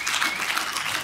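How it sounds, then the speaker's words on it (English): An audience at a convention art and graphics panel applauding steadily, a dense wash of many hands clapping together for the whole brief moment, loud and close. "you can clap if you like"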